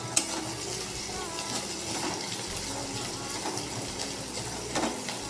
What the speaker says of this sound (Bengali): পেঁয়াজটাকে ভেজে নেব ভালো করে।